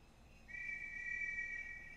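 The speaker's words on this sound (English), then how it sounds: "The Holy Messenger blew his whistle loudly." The Holy Messenger in Dragon Quest X blows a whistle, giving one sustained shrill tone that starts about a quarter of the way in and holds steady over a faint background hum, with no talking.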